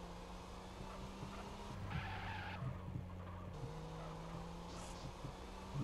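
A car in the multiplayer game GTA San Andreas skids and squeals its tires over a steady engine drone, with the screech rising in bursts midway, all fairly faint and under no talk.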